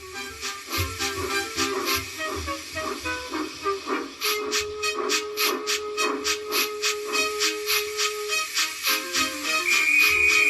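A toy wooden railway steam locomotive chuffs in a steady rhythmic pulse with bursts of hissing steam, accompanied by background music, growing louder toward the end.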